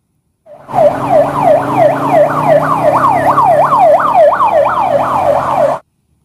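A rapid electronic wailing siren, like a toy ambulance, repeating its rising-falling cycle loudly and up close for several seconds before cutting off.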